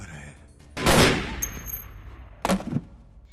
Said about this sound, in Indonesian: membuat Gani tercengang dan pada akhirnya melenyapkan Srikan dengan beberapa peluru di tubuhnya